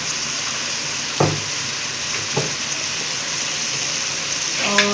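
Spices frying in a pan for chicken Manchurian, a continuous close sizzle with a few light stirring taps scattered through it, no talking.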